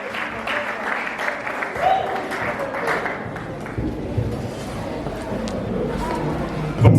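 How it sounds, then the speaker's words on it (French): Applause and some cheering from wedding guests greeting a speaker, a steady wash of clapping that holds for several seconds with a few brighter shouts mixed in, fairly close and loud. "est-ce qu'on peut l'encourager, s'il vous plaît, avec nos acclamations?"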